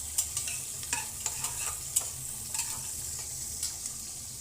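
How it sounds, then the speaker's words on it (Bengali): Onions fry in a pan for pilau rice, a steady crackling sizzle with scattered sharp pops and a few light scraping stirs, close and alone without any voices. "পেঁয়াজ ভাজা হয়ে গেছে,"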